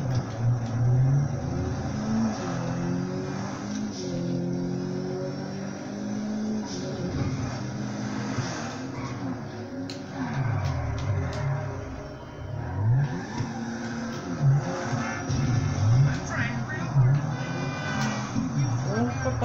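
A car engine revs hard on nitro in GTA 5, steady and loud, with the roar rising and falling while someone talks over it throughout.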